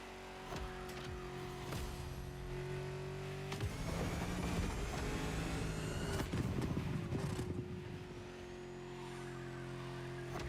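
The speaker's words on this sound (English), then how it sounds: "So I'm trying to use my nitrous to beat this time" Racing car in The Crew Motorfest on a nitrous boost, its steady engine tone rising and falling, with a rough burst of noise and tire scrub through the middle of the run.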